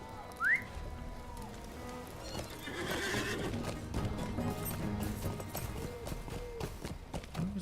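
A horse in the online game The Lord of the Rings Online gives a short whinny, then hooves clip-clop steadily at a trot over several seconds with ambient game sound underneath.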